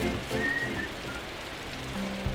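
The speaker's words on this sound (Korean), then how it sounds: "그냥 보기에도 비가 꽤 많이 내리는 것 같은데요" Heavy rain falling during a Korean morning weather segment, a steady broadband hiss of downpour running throughout, with a faint whistling tone briefly above it.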